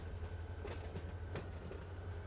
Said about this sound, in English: So it looks like this train is probably getting close to finishing up here.